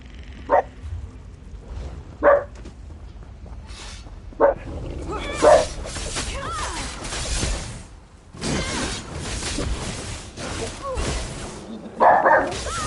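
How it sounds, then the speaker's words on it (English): Dog barks ring out in short separate bursts, roughly four of them spread across the stretch, over a busy game backdrop with ambient sound effects in an Elder Scrolls Online quest. "What are you barking at?"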